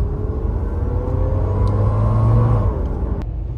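A converted van's engine idles after restarting, a steady low rumble with a droning hum that holds loud and close for the whole stretch, with no voices over it.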